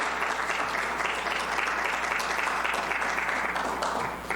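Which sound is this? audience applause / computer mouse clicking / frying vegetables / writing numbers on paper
audience applause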